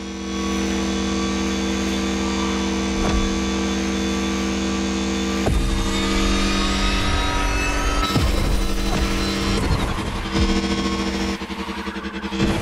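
A Mercedes supercar engine roars through a race in the video game The Crew Motorfest, a loud, sustained drone that shifts pitch as it changes gear partway through, with no talk over it.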